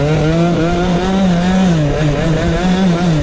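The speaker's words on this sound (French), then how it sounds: "C'est pour ça que le démarrage il est lent, parce que la courroie elle est pincée encore." A 70cc Most Wicked scooter with a new, still-tight transmission belt pulls away slowly, its two-stroke engine buzzing loud and close with a wavering, gradually rising pitch and no talk.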